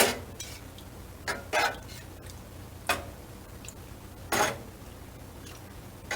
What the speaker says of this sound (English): I'm just going through and chopping these curds up.